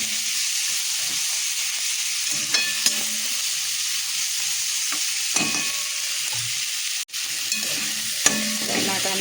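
Tomatoes with turmeric and salt frying in a pan for a prawn and potato curry, a steady close sizzle and hiss with occasional clinks of a spoon stirring, no voices.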